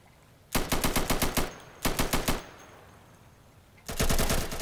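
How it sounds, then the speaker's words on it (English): Automatic gunfire in an esports video game match at a World Cup elimination, heard as three loud rapid bursts separated by short pauses, with no talk over it. "Whisper firing from the inside, brings down A Liquid."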